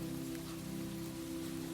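Steady rain falling around a little forest cabin, a soft, even patter at low level with no pauses, alone and without voices.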